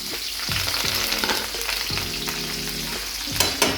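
Green chillies and curry leaves fry in oil with urad dal in a pan for Kannada-style uppit, giving a steady close sizzle with a few scraping stirs near the end and no talk.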